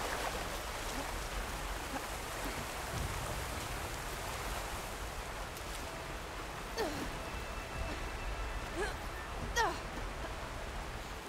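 Waterfall in the video game Horizon Forbidden West, a steady broadband rushing of falling water that fills the whole clip, with a few faint brief tones over it.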